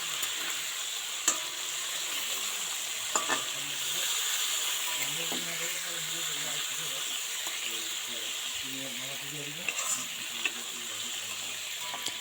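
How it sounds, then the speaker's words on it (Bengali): Prawns fry in hot oil with a steady, close sizzle and hiss, broken by occasional scraping taps of a spatula while a voice talks faintly underneath. "দুই মিনিটে কিন্তু এই মাছ ভাজা হবে"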